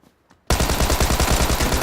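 Rapid, loud, close gunfire from a shotgun in the PUBG video game bursts in suddenly after a near-silent moment and continues as a dense barrage of overlapping shots.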